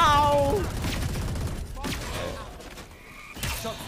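Rapid gunfire strikes the player in a multiplayer video game, a fast rattling burst of shots over creaks and mechanical clicks, with a voice speaking briefly.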